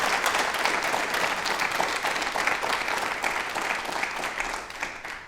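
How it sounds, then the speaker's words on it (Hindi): A studio audience breaks into steady, energetic applause, dense clapping from many hands sustained at an even level for several seconds before easing slightly at the end. "ताली एक बार हो जाए तो बहुत बढ़िया वाला"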